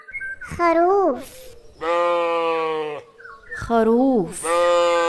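A sheep bleats in loud, close, wavering calls, several in a row with brief gaps, alternating between shorter quavering bleats and a long sustained one.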